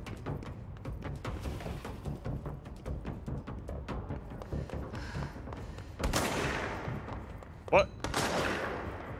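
Gunfire in the video game Control, a rapid series of close shots with a heavier burst and a sharp impact near the end, heard over game sounds.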